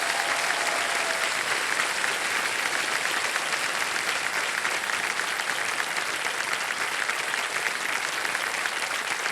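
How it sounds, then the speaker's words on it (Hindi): Studio audience applause on the KBC quiz show set, a loud, even wall of clapping that holds steady without a break. "जोरदार तालियां बज जाएं इनके लिए"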